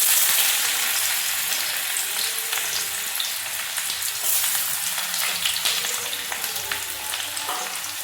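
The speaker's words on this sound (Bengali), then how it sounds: "আলুর চোখার জন্য শুকনো লঙ্কা ভেজে নিলাম প্রথমে" Dried red chillies frying in oil in a large wok for a potato mash, with a loud, steady, close sizzle and faint spatter and stir sounds, and no voices.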